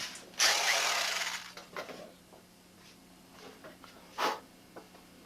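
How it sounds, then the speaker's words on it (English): Power drill boring out a hole in a model airplane's cowl mount, with a loud sustained drilling burst early on, then scattered handling clicks and a short second drill burst near the end. "then I'm going to drill that hole out, tap it out"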